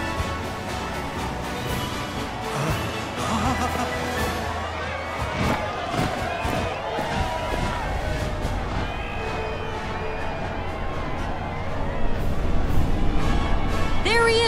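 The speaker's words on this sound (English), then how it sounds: "Can you even hear me over this crowd?" A large crowd at a parade in Junon in Final Fantasy VII Rebirth makes a dense, steady roar of cheering and chatter that swells toward the end, with fanfare-like music mixed in.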